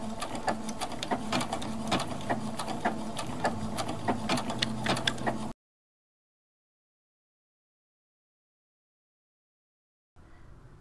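A sewing machine stitches a blanket stitch along a handkerchief quilt, a close, rapid mechanical chatter that runs steadily for about five seconds, stops to silence, then briefly resumes.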